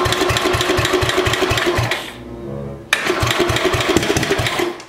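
A Tecumseh HH engine with a swapped carburetor fires and runs with a loud, rapid chugging, stumbles briefly and nearly quiets, then picks up again into a steady close-up beat.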